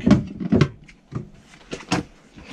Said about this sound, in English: massive drawers, great big drawers.